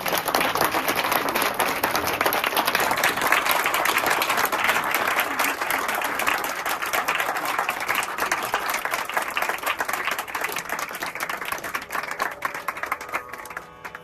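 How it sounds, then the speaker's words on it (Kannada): Audience applause after a two-and-a-half-hour veena concert, a sustained wash of many hands clapping that gradually thins and softens toward the end, heard alone without speech. "ಒಂದು ಜೋರಾದ ಚಪ್ಪಾಳೆ ಬರ್ಲಿ."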